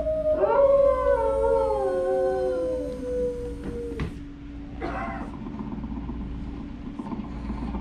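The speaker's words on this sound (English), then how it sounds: "My daughter Patty is using that old exercise machine she rescued from the attic." A creaky old 1920s exercise machine whirs and groans in the Carousel of Progress show at Walt Disney World, with rising and falling mechanical squeals, a sharp clunk midway, then a steady droning hum.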